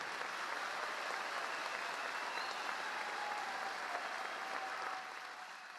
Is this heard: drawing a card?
no